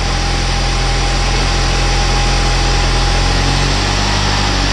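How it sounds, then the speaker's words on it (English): A Saab 9-5 engine idles slightly high after a head gasket replacement, a loud, steady, close running drone with an even hum and no breaks or revving. "Got a little high idle."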